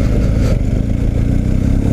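A BMW R 1250 GS boxer twin motorcycle engine revs loudly and close up, a dense, throaty low rumble that holds steady for two seconds with slight fluttering pulses.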